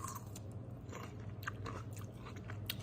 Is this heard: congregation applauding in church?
no